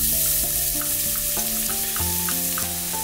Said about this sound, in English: now cook your garlic with a medium heat